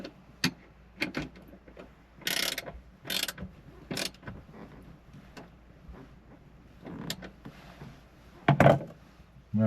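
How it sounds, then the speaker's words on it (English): A 15mm wrench tightens bolts on a phone holder mount inside the cab of a John Deere 3033R tractor, giving a string of short metallic ratcheting clicks and clunks in irregular bursts, close up and otherwise quiet. "Now I'm going to tighten these bolts down"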